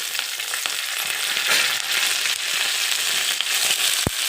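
Garlic and green chillies fry in hot oil in a pan, a steady crackling sizzle with stirring scrapes throughout and a single dull knock near the end.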